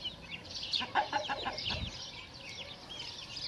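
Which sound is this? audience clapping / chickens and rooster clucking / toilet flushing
chickens and rooster clucking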